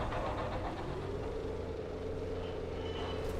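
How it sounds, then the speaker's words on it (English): Mason condensers spooling up in Dune Awakening, a low steady mechanical hum and rumble with a faintly rising tone, quiet and sustained, no talking. "Spooling up Mason condensers."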